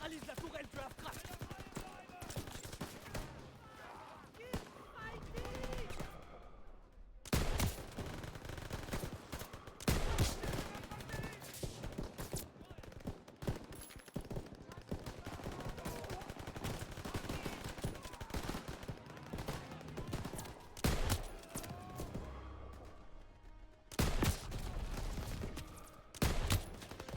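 Bursts of machine-gun turret fire and other gunfire crackle in a World War II shooter game, coming in rapid volleys with short gaps, mixed with explosions and battle noise, and a voice speaks briefly at times.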